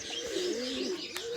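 Pigeons coo in soft, repeated throaty calls, close by in a loft where a pigeon keeper handles his birds, with a brief higher chirp near the end and no talk.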